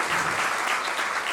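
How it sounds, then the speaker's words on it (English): Guests at an evening event honoring teachers give the caterers a round of applause, a brief burst of steady, full clapping from a room of people. "please give a round of applause to our caterers"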